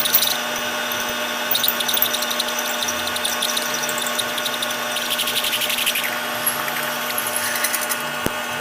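A power drill bores through a cast iron handwheel held in soft jaws, giving a steady, loud mechanical whine and grinding that holds level throughout with a rising, brighter edge near the end, and no talking.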